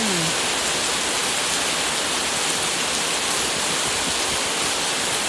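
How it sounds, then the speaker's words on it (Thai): Steady rain pours down in Chanthaburi, Thailand, a dense, even hiss that stays constant throughout, loud and close with no voices. "ทำงานดูสายฝนกันเลย"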